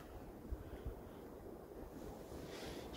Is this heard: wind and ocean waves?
yes